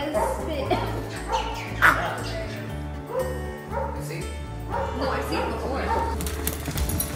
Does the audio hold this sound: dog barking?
yes